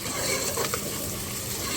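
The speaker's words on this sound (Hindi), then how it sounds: "प्याज को मैं लाइट ब्राउन करूँगी।" Sliced onions frying in hot oil in a pan until light brown for an aloo gosht, giving a steady, loud, close hiss of sizzling with no pauses.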